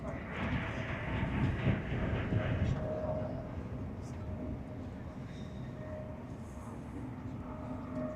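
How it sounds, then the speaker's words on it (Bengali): Inside a crowded high-speed train running from London to Glasgow at up to 203 km/h near Edinburgh, a low, steady rumble of wheels and carriage fills the cabin, with faint voices underneath. "ট্রেনটা আর 10-15 মিনিটের মধ্যে ঢুকে যাবে এডিনবার্গ।"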